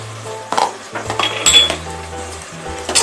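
Turmeric, coriander, black pepper and red chilli powders are stirred and roasted in a pot for a village-style mutton curry, making repeated metallic clinks and scrapes of a spoon against the pot, close and fairly loud.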